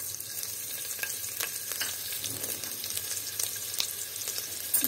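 Garlic and ginger paste is stirred into a frying vegetable masala in a pan, with a steady soft sizzle and scattered spoon scrapes and taps, close and unaccompanied by speech.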